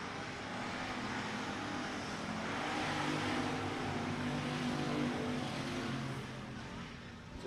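Dirt track race cars roar down the back stretch at Hunt County Raceway, a broad, steady engine drone that swells slightly in the middle and sounds moderately distant.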